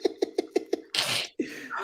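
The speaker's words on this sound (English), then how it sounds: "He's sneezing." A man builds up with five short, evenly spaced vocal catches before a loud, breathy sneeze burst, then a brief gasp and a second rough exhale, all close.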